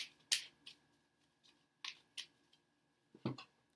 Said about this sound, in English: Just going to shuffle the cards here.